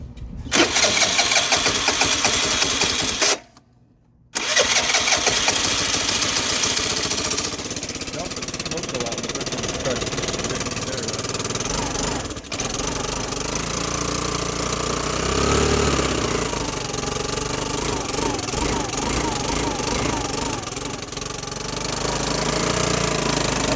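A Vespa LX150 scooter engine runs close and loud at idle after the choke is shut off, with the throttle worked by hand. It holds a steady throb that cuts out briefly near the start, then settles back to idle.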